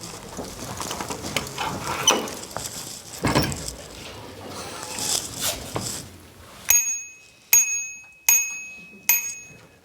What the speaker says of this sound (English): is the red bell of gratitude.